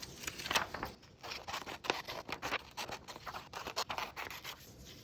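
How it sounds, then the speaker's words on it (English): Paper snipped with scissors while cutting out a rectangular book cover, a run of close, crisp irregular cuts and rustles. "trace around the whole rectangle that you have for your pages. And then cut it out."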